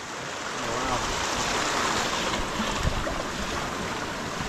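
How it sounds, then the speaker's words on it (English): Water rushing along a wet, stormy stretch of the Western Arthurs Traverse in Tasmania, Australia, a broad steady hiss of flowing water, loud and continuous with no talk. "There's a lot of water."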